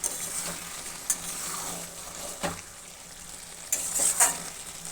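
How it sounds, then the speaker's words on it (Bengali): Fish and cabbage curry is stirred in a frying pan, giving a steady close sizzle with soft scraping strokes of the spoon and a few sharper clinks against the pan. "এখন এটা দিয়ে একটু নাড়াচাড়া দিয়ে মিশিয়ে নেব"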